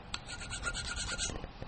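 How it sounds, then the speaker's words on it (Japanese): A bone nut for a Fender Jaguar guitar clamped in a vise and shaped with a file: rapid rough rasping strokes, close and steady, continuing without pause and with no voices. "このようにバイスで、噛んでですね、ヤスリで、グリグリと削っていきます"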